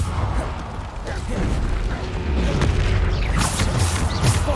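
A Bombarda explosion spell in Hogwarts Legacy goes off amid heavy combat, with booming blasts, whooshes and mechanical clatter layered loudly over one another, and a voice speaks briefly.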